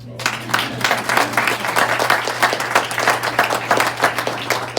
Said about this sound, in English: And applause for him, too.